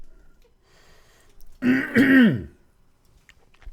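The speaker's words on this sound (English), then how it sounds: "Sorry, I had to clear my throat." A single hoarse person clears their throat with a rough, rasping burst lasting about a second, close and loud against a quiet room.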